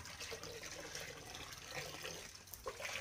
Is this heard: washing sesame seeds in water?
yes